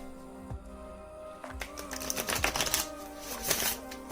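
A gilded Cosma Visions oracle card deck is shuffled by hand, making a quick run of crisp slipping clicks and riffles that build into dense bursts, close up with no talk.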